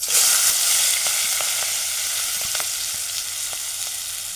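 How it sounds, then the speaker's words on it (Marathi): Onion, curry leaves and green chillies fry with turmeric in a pan, giving a steady loud hiss with scattered small pops and crackles throughout, no one speaking. "कांदा टाकूया आणि कढीपत्ता आणि मिरची हे सगळं टाकून देऊ"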